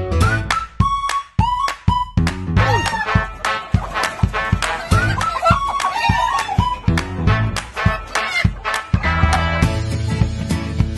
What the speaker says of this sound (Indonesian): ini ayam ketawa asli dari Sulawesi